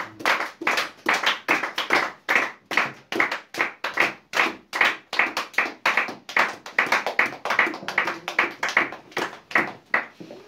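A church congregation claps in unison to welcome a preacher, steady rhythmic handclaps at an even beat, loud and close, continuing without a break.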